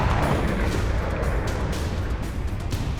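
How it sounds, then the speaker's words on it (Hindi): A tank is destroyed by an explosion set off by a small Ukrainian unmanned ground robot driven beneath it, heard as a dense, loud roaring blast that stays sustained and turbulent throughout, with no voices. "इसके बाद धमाका होता है और टैंक भस्म हो जाते हैं, कुछ इस तरह।"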